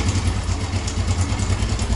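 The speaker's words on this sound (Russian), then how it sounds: "Вот техстартер. Сейчас заведется." A Storm Indigo 125 Cross moped engine runs at a steady, rough idle with a clattering, throbbing low beat, close and loud without any voices.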